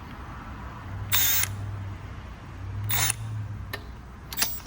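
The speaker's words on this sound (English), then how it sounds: "it has no problem with this 80 pound-foot of torque lug nut on this Civic" A Milwaukee right-angle 3/8-inch impact wrench takes a lug nut off a Honda Civic wheel in two loud, rattling bursts of hammering, each about a second long, with short clicks and a low motor whir between them.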